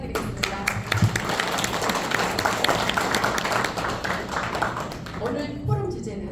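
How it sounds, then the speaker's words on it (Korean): Audience applause at a Korean community forum on vegetable and fruit prices, a dense clatter of many hands clapping throughout, fading slightly toward the end, with some voices mixed in. "뜨거운 박수 한번 부탁드리겠습니다"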